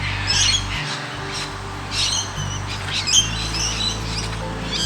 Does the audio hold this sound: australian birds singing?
yes